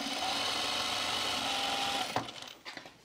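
A sewing machine stitches Carolyn pajama bottoms in a steady, continuous mechanical whir for about two seconds, then stops, leaving a few softer handling clicks and rustles.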